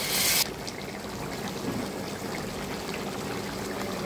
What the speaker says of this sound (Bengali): এখন দিয়ে দেবো একটু গরম পানি